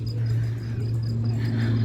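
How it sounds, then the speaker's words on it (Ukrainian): Crickets chirp in a steady pulsing trill along a seaside promenade in Durres, Albania, heard over a low constant hum of surrounding activity. "чи чуєте, цвіркунів"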